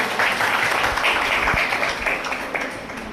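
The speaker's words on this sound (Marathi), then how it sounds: "यांच्यासाठी पुन्हा एकदा जोरदार आपण त्या ठिकाणी टाळ्या वाजवूयात" An audience applauds teachers at a Teachers' Day gathering, with a steady patter of many hands clapping at moderate distance that fades slightly toward the end.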